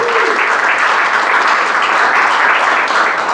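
Audience applause fills the Sheffield Forum after an evening talk by street art and mural illustrators, a dense, steady wash of many hands clapping at close range, loud and sustained with no voices over it.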